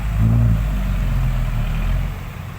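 A vehicle engine revs hard and steady close by as its wheels spin in clay mud, a low droning roar with rumbling, churning texture, holding for a couple of seconds.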